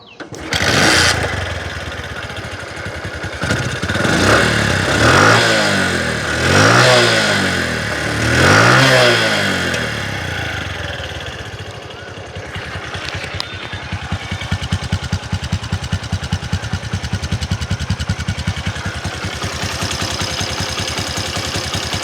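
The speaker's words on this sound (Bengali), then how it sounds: "গাড়ির ইঞ্জিনের সাউন্ড শুনতে পারলেন খুবই স্মুথ সাউন্ড আছে" Engine of a second-hand Bajaj motorcycle, a Platina or CT100, revved several times in rhythmic bursts, then settling into a steady, smooth-sounding idle, close and fairly loud with no talk.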